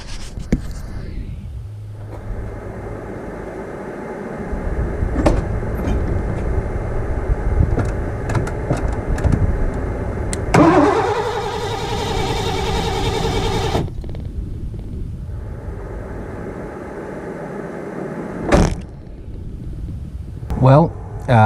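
A 1984 Ford LTD Crown Victoria engine turns over with a strained mechanical whirring that never catches, between stretches of scraping and handling noises.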